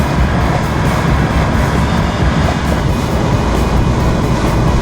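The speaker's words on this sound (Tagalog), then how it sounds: "Grabe ang uh, makina nito. Napakalakas po." Cruise ship engine running, a loud, steady, dense rumble and roar that fills the clip without change, close by and alone.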